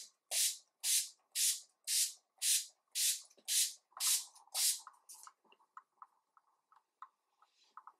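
Urban Decay All Nighter setting spray mists onto a face in about nine quick, evenly spaced hissing pumps, heard close and loud, followed by faint soft clicks and handling noises.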